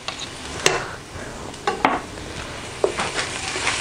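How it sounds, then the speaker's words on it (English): Onion and garlic sauté in a pan, a soft continuous sizzle under a few sharp clinks and scrapes as a utensil stirs them, nearby with no voices. "I'll just stir this so the flavor of the garlic comes out"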